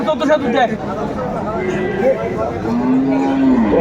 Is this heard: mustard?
no